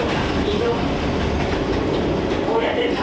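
A Noto Railway train in Ishikawa, Japan, rolls along with a steady rumbling hum and faint rhythmic clatter of wheels, heard from inside the carriage, with muffled voices in the background.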